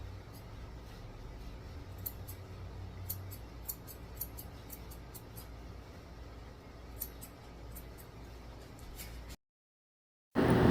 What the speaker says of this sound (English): I'm using my curved scissors to make his face nice and round.